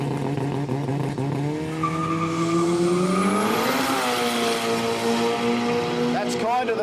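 Forced four-cylinder race cars in a quick street drag racing final: engine tones climb in pitch through the gears, with tire squeal, loud and near, and a commentator talking over it.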